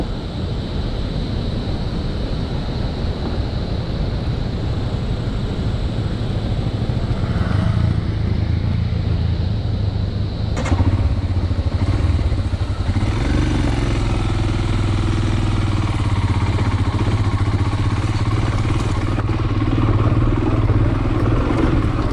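A motorcycle climbs a badly broken mountain road in North Sikkim between Gangtok and Lachen, its engine labouring loudly under heavy wind buffeting on the microphone, the revs shifting and rising partway through.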